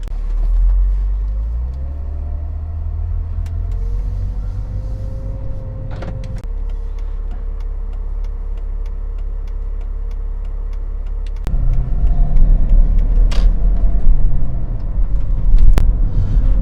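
BMW car driving on the road, a steady low interior engine and road rumble with occasional ticks and clicks, swelling louder near the end, no talking.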